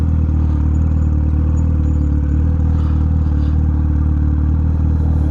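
Loud, constant mid-pitched engine drone from a 1000cc 2002 Yamaha YZF-R1 sportbike with an aftermarket Tose exhaust, held steady and close throughout without voices.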